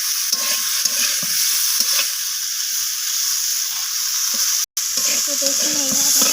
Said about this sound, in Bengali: তো আবারও সমস্ত কিছু এইভাবে নাড়াচাড়া করে একটু ভাজা ভাজা করে নিচ্ছি।